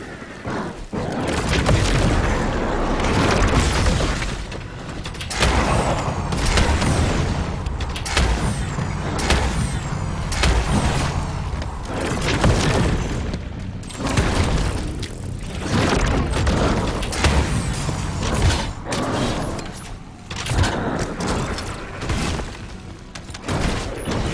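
Close air support strikes in the video game The First Descendant deliver a dense, continuous barrage of heavy booms and mechanical rumbles, loud and unbroken for over twenty seconds.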